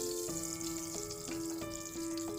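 Crushed red chili and turmeric sizzle in hot oil in a pan while being stirred, a bright steady frying crackle with periodic scraping strokes, close and alone under a sustained tonal hum.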